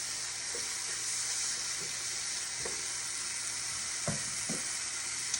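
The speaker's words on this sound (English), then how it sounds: "We're gonna let the onions cook a little bit more." Onions sizzle in a pan with a continuous bright hiss, broken by a few soft knocks of a utensil as they are stirred; no one speaks.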